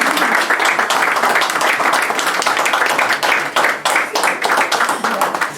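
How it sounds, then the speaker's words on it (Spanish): Loud, dense audience applause at a 50th-anniversary cultural ceremony, sustained for several seconds as a full, even roar of many hands close by. "Recibimos a la señora Irma Brochero, con un aplauso también."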